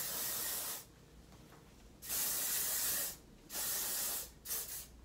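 Kristen S. Refine Signature Finishing Hairspray sprays from a can in four short hissing bursts of varying length, close and fairly loud, with brief quiet gaps between them.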